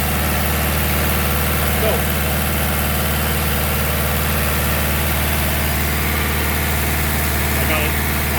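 An Olin 575 concrete pump's engine runs loud and steady at a constant drone while it pumps concrete, with a brief word spoken over it.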